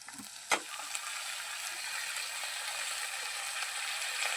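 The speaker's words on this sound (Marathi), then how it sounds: "आणि परत एकदा परतून घ्यायचं छान मिक्स करून" Onion and tomatoes frying in a pan, a faint continuous sizzle with a sharp clack of a utensil near the start and a few soft stirring scrapes.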